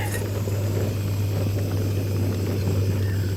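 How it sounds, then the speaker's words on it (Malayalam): An airplane flying overhead at a night campsite, a steady loud engine drone with a strong low hum that stays even throughout, with no voices. "ഇതാ പോണ് വിമാനം"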